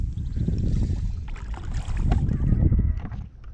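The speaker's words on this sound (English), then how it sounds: "The wind's picking up too" Gusty wind buffets the microphone on a fishing boat out on the water, a loud, rumbling, blustery roar with faint splashing and rattles underneath.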